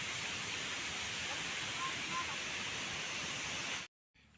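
Water pouring from the gates of the Thotapally reservoir dam makes a loud, steady broadband roar that holds without pause before cutting off abruptly near the end.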